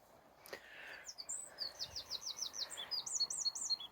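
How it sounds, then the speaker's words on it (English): Several birds chirp and sing in quick, high repeated phrases, fairly close and clear against a quiet background. "Can you hear the birdies, Lillian?"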